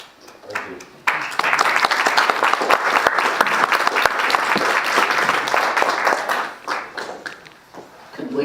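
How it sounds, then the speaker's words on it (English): Audience applause for honorees at a historic preservation summit, a brief patter of claps swelling into sustained, dense clapping that fades toward the end, with a few voices beneath. "Could we give one more round of applause to all of our honorees?"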